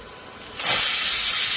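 Pressure cooker whistle lifted open after cooking mutton gravy, releasing a sudden loud, steady rush of hissing steam that starts abruptly and continues without pause.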